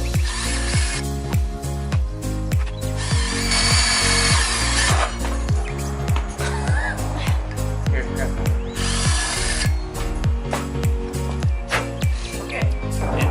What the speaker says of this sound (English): the next step of what we're doing is drilling a hole